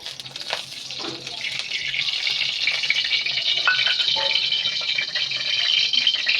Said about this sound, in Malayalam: ചട്ടിയിലോട്ട് ഞാൻ ആവശ്യത്തിനുള്ള വെളിച്ചെണ്ണ ഒഴിച്ചു കൊടുക്കണേ.